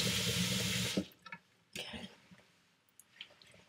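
A bathroom sink tap runs in a strong, steady stream for about a second while a face is rinsed, then cuts off, leaving close splashes, drips and wet squishes.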